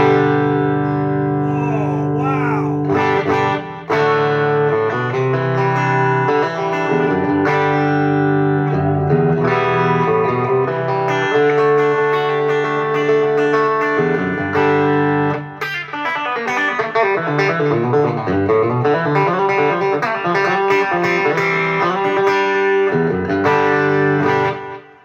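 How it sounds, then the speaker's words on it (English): An electric guitar played through the M Music bridge pickup of a Leo James Popcaster rings out in strummed chords and single-note runs, loud and close with a round, clear tone and brief pauses between phrases. "This is the M Music bridge pickup in the Leo James Popcaster."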